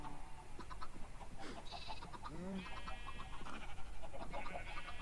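Blocky farm chickens in the Minecraft video game cluck in short clipped bursts over a quiet background, mixed with other animal calls and someone talking.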